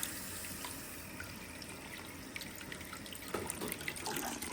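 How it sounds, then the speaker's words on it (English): Hot tap water pours steadily into a Vevor ultrasonic cleaner, a continuous close splashing wash that swells a little louder near the end. "I'm gonna try adding hot water"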